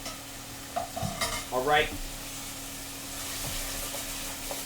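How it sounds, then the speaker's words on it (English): Wine cooking down in a sizzling pan for black truffle risotto, stirred with scraping strokes over a soft steady sizzle, with a short spoken interjection near the start. "I want to cook this wine all the way down until there's no wine left"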